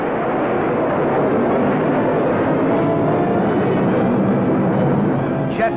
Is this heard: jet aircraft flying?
yes